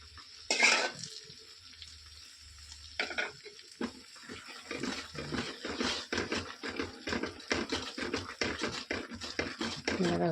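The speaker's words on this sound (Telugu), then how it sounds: "కలుపుతూనే ఉండాలి." Mysore pak mixture is stirred in a pan, a continuous scraping, sizzling churn that grows busier and denser, with someone speaking over it at times.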